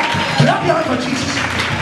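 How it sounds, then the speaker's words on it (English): A church congregation at a prophecy, healing and deliverance service claps hands together in a dense, continuous wash of applause, with voices and music mixed in beneath it. "Clap your hands for Jesus."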